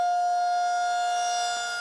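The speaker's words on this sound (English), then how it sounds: "When you are outside, the first alert you will receive is likely from a tornado siren." An outdoor tornado warning siren holds one loud, steady wailing tone that fades slightly toward the end, with no talk over it.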